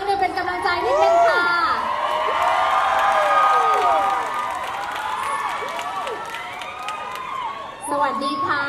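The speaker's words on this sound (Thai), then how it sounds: "ฉันต้องขอเสียงกรี๊ดดังๆอีกครั้งนึง" A pageant audience at Mister International Thailand 2022 screams and cheers loudly during the opening number, with shrill whoops and rising and falling shrieks over a continuous crowd roar and scattered clapping.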